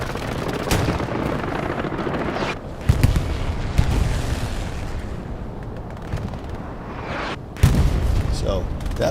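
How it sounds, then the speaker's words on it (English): Axis bombing run explosions rumble across the battlefield in the WWII shooter Hell Let Loose on the Sainte-Marie-du-Mont map, a dense continuous roar of blasts and gunfire with several heavier booms punching through, while voices talk over the din. "That is a Axis bombing run to the north."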